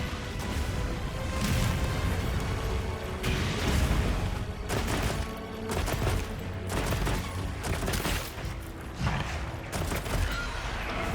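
Bowgun spread ammo fired in Monster Hunter Wilds, a run of loud, dense blasts and mechanical clatter repeating in bursts over a busy game soundscape, with no talking.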